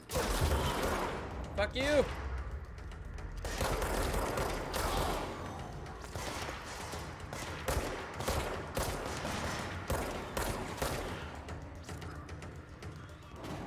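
Repeated gunfire from the video game Control, in loud, dense bursts that run almost without pause, with a voice shouting over the shooting.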